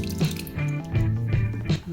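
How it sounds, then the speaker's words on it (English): Tomato juice from worked tomatoes drips and trickles through a sieve, a steady wet patter with scattered drops over a low continuous hum. "I'm just working the tomatoes around in there just to help the juice fall through"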